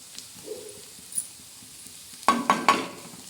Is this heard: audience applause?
no